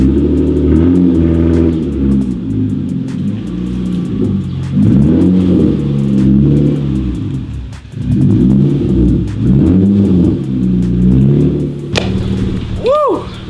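A straight-piped Acura TL revs repeatedly up close, loud rumbling blips rising and falling in a rough rhythm, with a brief high squeal near the end.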